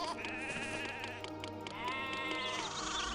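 Sheep bleat repeatedly in the farm-building game Zeus: Master of Olympus, two long wavering calls that sit close and loud over a steady backdrop of game music and ambience.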